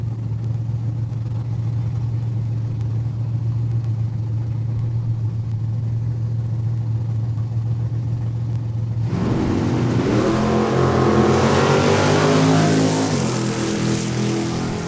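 A 1975 AMC Hornet drag racing down the quarter mile at a raceway: a steady low engine drone, then a sudden loud roar of hard acceleration that pulls away, with no talk over it.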